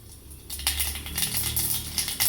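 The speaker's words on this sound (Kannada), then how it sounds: "ಎಣ್ಣೆ ಕಾದ ನಂತರ ಸ್ವಲ್ಪ ಸಾಸಿವೆಯನ್ನು ಹಾಕ್ಕೊಳ್ಳಿ." Mustard seeds dropped into hot oil for tempering a village-style horse gram sambar, crackling and sputtering in a dense continuous burst of sharp pops close by, with a few louder spatters near the end.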